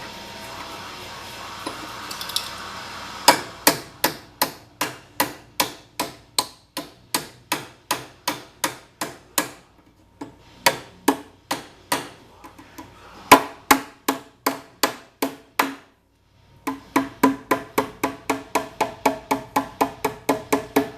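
Hammer blows flattening a car body panel against a block during an Austin Healey restoration, sharp metallic taps in fast regular runs of about a dozen strikes, with short pauses between runs, close and loud.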